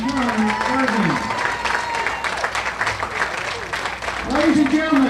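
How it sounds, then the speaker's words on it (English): Crowd at a Texas high school baseball senior ceremony clapping and cheering, a continuous bright roar of applause with an announcer's voice heard briefly at the start and end. "one more big round of applause for the class of 2019"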